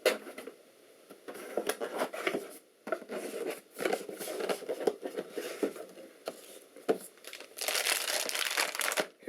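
Motherboard packaging crinkles and rustles up close as it is opened, with bursts of plastic crumpling, brief pauses, and a louder stretch of crackling near the end.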